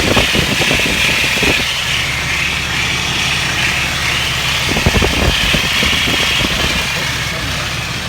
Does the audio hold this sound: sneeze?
no